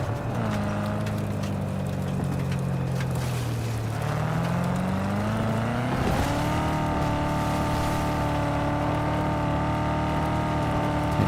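A car in Cyberpunk 2077 cruises with a steady engine hum that dips, then climbs sharply as it accelerates, holding loud and close throughout without voices.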